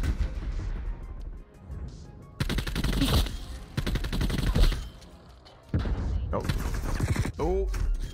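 Nail gun firing in the shooter game Black Ops Cold War, with rapid bursts of loud gunfire in separate volleys and a voice talking during the action.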